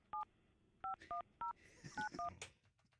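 A phone number is redialed on a keypad, producing six short, clear touch-tone beeps in an uneven rhythm against a quiet background.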